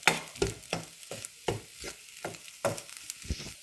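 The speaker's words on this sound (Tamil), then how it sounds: "அப்போ இன்னும் அந்த சாஃப்டாக வாரதுக்கு நான் இப்போ வதக்கி கொண்டிருக்கிறேன்." Kottu roti being stir-fried in a pan at home, a metal spatula scraping and turning the bread with irregular clanks and soft sizzling, close and moderately quiet, with no talk.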